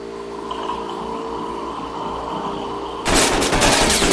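Loud bursts of automatic gunfire erupt suddenly in the mobile battle royale Rules of Survival, rapid close shots following a stretch of quieter game ambience with no talking.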